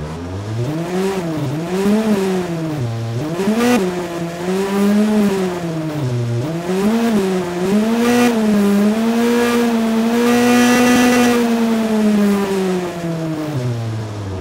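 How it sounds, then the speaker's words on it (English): Formula One race car engine from the AudioMotors v2 Pro plugin revs continuously, its pitch rising and falling in repeated sweeps before holding a long, high, steady scream, loud and alone with no talk. "We've even got a Formula One car."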